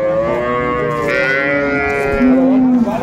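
Loud, close cattle mooing in a long drawn-out low call, with a second lower moo rising near the end amid ambient crowd noise at a dairy cow and calf livestock market in Ambari, Dinajpur.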